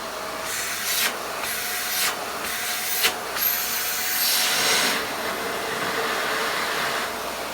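A VAX Mach 8 cyclonic vacuum cleaner runs with a close, steady whooshing drone, airflow surging and dipping in several short pulses as it works.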